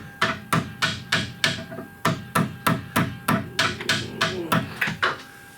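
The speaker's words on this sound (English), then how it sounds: "When you hit it with the hammer," A hammer striking the inner tie rod on the steering rack of a 1998 Toyota Sienna, with a steady run of about seventeen sharp metallic blows, close and loud.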